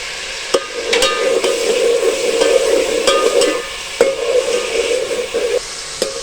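Whole spices fry in a pot with a steady, close hiss and sizzle, broken by occasional sharp clicks from stirring. No voices.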